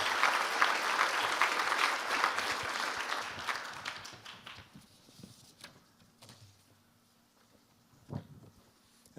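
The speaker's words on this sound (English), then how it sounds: "giving a warm round of applause for these three extraordinary individuals" Warm applause from an awards-ceremony audience, loud at first then thinning out and fading to scattered claps and quiet room noise.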